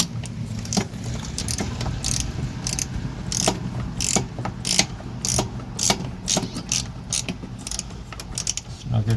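Ratchet wrench snugging down bolts on a Dodge Cummins CCV setup, a run of quick clicking bursts with short pauses between, close and fairly loud against a low background hum.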